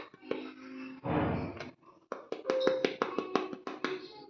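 Thin, crispy sesame chikki snapped apart by hand up close: a soft breathy rustle, then a quick run of sharp, dry cracks and taps in uneven rhythm.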